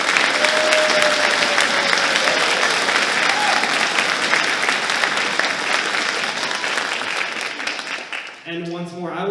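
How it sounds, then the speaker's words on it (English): Loud, sustained applause from an audience for student musicians at a high school spring orchestra concert, dense clapping throughout, ending with a brief voice as it fades. "Please join me in another round of applause for these students."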